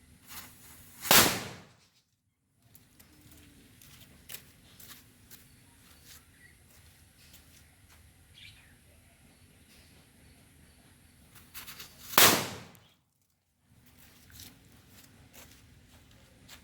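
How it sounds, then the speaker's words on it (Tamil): Two loud, sharp blasts from a Lakshmi 3-inch firecracker set off in a Diwali cracker test, about eleven seconds apart, each a sudden bang with a brief ringing tail over quiet outdoor ambience. "ஃபைரோக்ஸுடைய லக்ஷ்மி 3 இன்ச்சு இதோட டெஸ்டிங்கை வந்து பார்க்கலாம்."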